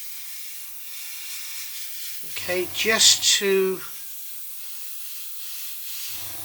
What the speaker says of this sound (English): I'm just going to spray some white onto these filter boxes.